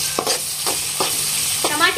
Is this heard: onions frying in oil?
yes